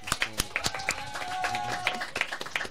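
Scattered, uneven clapping from a small audience after a live show, with sharp individual claps spread across a short burst rather than a full ovation.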